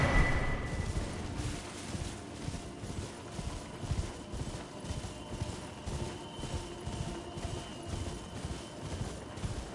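Horse hooves in Elden Ring clip-clop in a steady, even rhythm as the horse is ridden at a walk, fairly quiet over a soft wind-like background and with no talking.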